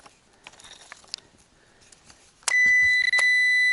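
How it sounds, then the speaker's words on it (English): A metal detector swept over aluminum foil at an abandoned gold mine: after faint rustling, a loud, sustained high-pitched beep sounds, briefly wavering before continuing. "Sets the metal detectors off like crazy"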